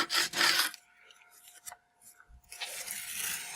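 Hardened wax being scraped off a ski with a notched scraper: a burst of raspy scraping, a pause with small clicks and handling, then scraping resumes, close and fairly quiet.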